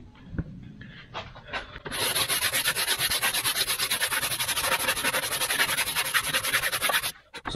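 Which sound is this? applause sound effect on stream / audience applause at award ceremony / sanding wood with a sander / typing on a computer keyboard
sanding wood with a sander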